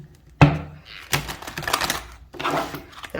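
Stiff oracle cards riffle and slap together in a few quick, dry bursts of shuffling, close and fairly quiet, separated by short pauses.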